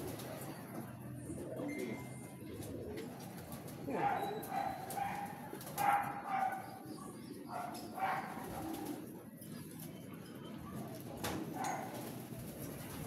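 Pigeons coo softly and repeatedly at close range, with a dog barking now and then and a person speaking briefly over the birds.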